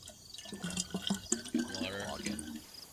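A water tap filling in the DayZ survival video game, a faint gurgling pour with a few knocks and clicks, partly under a voice.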